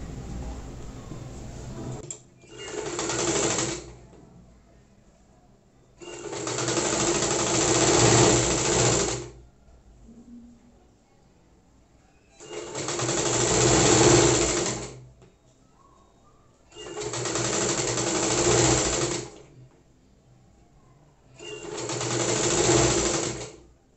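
A sewing machine stitches a frill onto a sleeve, running back over an earlier half-inch seam. Five close, loud bursts of rapid whirring stitching are separated by short quiet pauses, with no speech.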